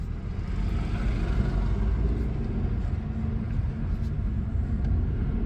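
Fiat Tipo Cross SW estate car driving, heard from inside as a steady, continuous low road and engine rumble with no breaks.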